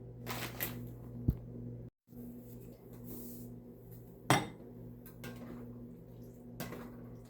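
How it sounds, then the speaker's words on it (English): A pot of chicken leg quarters and mixed veg being stirred, with scattered spoon scrapes and clanks against the pot over a steady low hum, fairly quiet and close. "Giving things a little stir."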